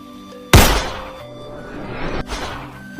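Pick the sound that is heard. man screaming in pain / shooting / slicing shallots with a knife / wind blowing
shooting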